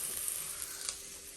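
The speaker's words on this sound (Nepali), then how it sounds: "अब चाहिँ यसलाई रातो हुने गरी भुट्छु" Onion leaves fry in a pan with oil as momo filling cooks, giving a quiet, steady hiss with a few soft crackles; no voices are heard.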